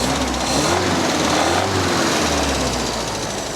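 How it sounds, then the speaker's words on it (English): Busy, rapid mechanical clatter from a Triumph 1500 automatic engine with a noisy tappet, a continuous close ticking rattle over the running motor, with no talk. "Still got that noisy tappet."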